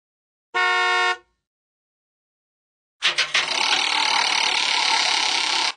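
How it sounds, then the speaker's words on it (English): A car horn gives one short, loud, tonal honk lasting about half a second, followed by silence and later a stretch of unrelated clattery noise. "Car."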